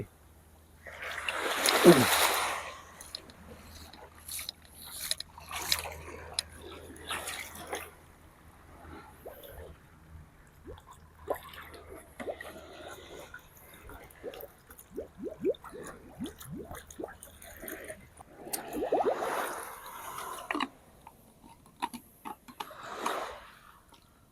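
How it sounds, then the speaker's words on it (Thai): Seawater is scooped and poured outdoors to water plants, producing splashes and gurgling trickles that come in bursts over about twenty-four seconds, with quieter dripping between pours. "เอาน้ำทะเล ไปลดน้ำต้นไม้กันนะครับ"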